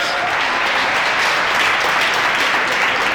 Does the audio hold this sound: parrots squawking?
no